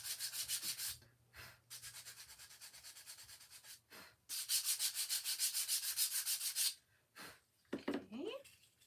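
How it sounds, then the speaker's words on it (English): Rhythmic back-and-forth sanding strokes on a small wooden organizer, removing seeped-out wood glue, in several bursts separated by pauses, close and fairly quiet, with a brief breath or vocal sound near the end. "Let's gently sand any wood glue that's seeped out."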